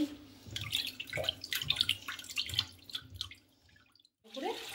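Cleaned shing catfish are rinsed under running water, with close splashing and trickling that comes and goes, pauses briefly, then resumes.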